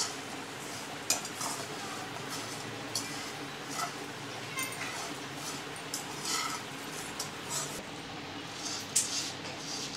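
A spoon scrapes and clinks against a pan while stirring flahari chiwda, steady soft scraping with sharper metallic taps every second or so, quiet and close.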